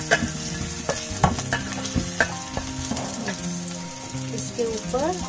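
Finely chopped onion and tomato fry for baingan bharta, with steady sizzling and repeated scraping stirs of a spatula in the pan, fairly close and alone.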